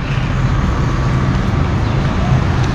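Steady road traffic on Chakri Road in Rawalpindi, a continuous broad rumble of passing vehicles with low engine drone, fairly loud and close, with no clear individual horns or voices standing out.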